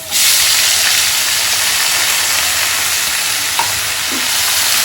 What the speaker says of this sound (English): Now once the chili is fried, add tomatoes in that.